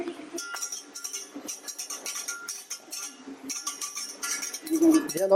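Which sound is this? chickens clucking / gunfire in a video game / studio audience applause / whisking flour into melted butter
whisking flour into melted butter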